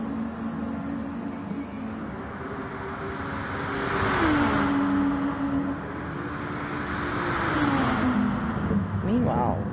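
Racing car in a video game race on the Dragon Trail Seaside circuit, its engine droning steadily and rising in pitch as it accelerates down the start-finish straight, with commentary spoken over it.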